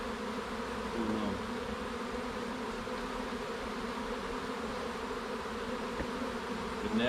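Honey bees hum around an open hive in a dense, continuous drone, close and steady for several seconds, with occasional louder passes of individual bees.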